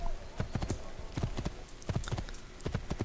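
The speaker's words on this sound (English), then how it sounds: "get on the horse, get on the horse" In the video game Assassin's Creed 2, a horse gallops with rhythmic, fairly loud hoofbeats in quick clusters, continuing steadily under a faint game ambience.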